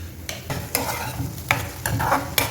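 Mutton is stirred and fried in a pan, with a constant oily sizzle broken by repeated scraping strokes of a spoon about every half second, close and clear with no talking.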